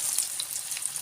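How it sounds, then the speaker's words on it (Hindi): Chicken frying in a pan for restaurant-style chicken chowmein gives a steady, close sizzle with a hissy wash and scattered bright crackles and pops throughout, with no voices. "उसके बाद हमने चिकन को कर लेना है फ्राई।"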